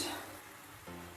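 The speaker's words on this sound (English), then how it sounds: "So mince is cooking" Mince frying in a pan for bolognese, a quiet, brief sizzle with a faint stir or shift near the end.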